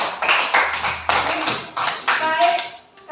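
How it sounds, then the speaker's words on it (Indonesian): A class of schoolchildren claps together in a classroom, several short bursts of quick, fairly close clapping with a voice briefly audible. "Kita tepuk tangan sama si Putri"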